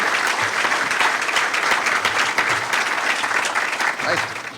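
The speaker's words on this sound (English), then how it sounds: "nice round of applause, Louis" An audience at a political event with congressmen gives a sustained round of applause, dense and fairly loud, with voices mixed faintly into the clapping.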